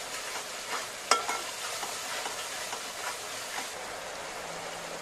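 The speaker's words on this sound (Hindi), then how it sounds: "दो तीन मिनट हम ये मसाले को अच्छी तरीके से भूनेंगे" Masala spices with turmeric being fried in a pan for chole, a soft continuous sizzle with scattered spoon-stirring scrapes and one sharper clack, close but quiet and free of speech.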